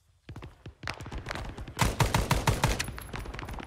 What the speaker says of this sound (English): Still taking fire here.